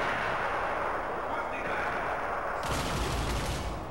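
Continuous turret gunfire in the video game Riddick: Escape from Butcher Bay, a dense, loud, steady rattle of rapid shots that grows heavier toward the end.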